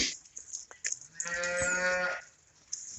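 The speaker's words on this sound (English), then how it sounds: "Probably have all the cows in here in a second." A cow in a farm pen lets out one long, loud moo lasting about a second, framed by quieter shuffling and rustling before and after.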